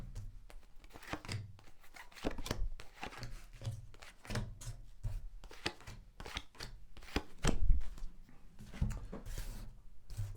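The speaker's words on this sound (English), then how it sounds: "I'm just going to lay down your 10 cards on the table." Tarot cards being laid down one by one on a table, a steady run of soft taps, slaps and slides close to the microphone, with no talking.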